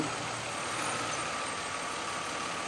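A car engine runs smoothly at a steady idle in a repair shop during diagnostics, a constant even hum with no audible stumbling, alone without talk.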